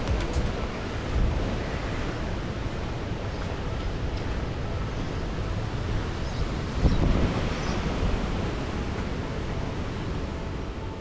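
Strong wind gusts across an outdoor house building site where the slab is being laid, a steady, rough rumbling roar with slight surges, and no voices.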